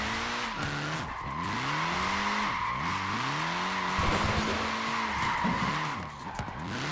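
A tiny short-wheelbase front-wheel-drive car sliding around with its small tires squealing in repeated rising and falling howls, engine revving underneath, fairly close and without talk.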